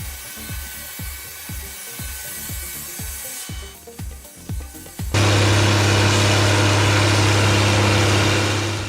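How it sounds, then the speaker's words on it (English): A Duratec HD10 grinder's hammer mill shreds brush and logs: rhythmic low pounding thumps under the engine, then a loud steady roar with a sustained hum as the machine runs at full power. "HD10 grinder doesn't grind, it devours. Brush and logs disappear into the hammer mill"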